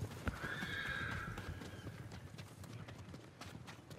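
A horse whinnies loudly and clearly in Ghost of Tsushima, a bright neigh lasting about a second, followed by a scatter of quieter hoof clops and rustling over muted ambience.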